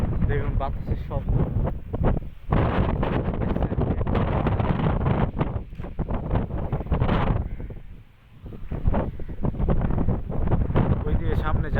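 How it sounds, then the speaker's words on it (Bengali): Storm wind gusts loudly across open, flooded rice fields, a dense, roaring buffeting that briefly eases around the eighth second before surging back. "দেখুন বাতাসের শব্দ।"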